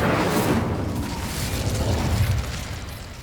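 Incendio fire spell cast in Hogwarts Legacy: a loud, roaring whoosh of flame with a booming onset that holds steady for a few seconds and then slowly fades, heard alone.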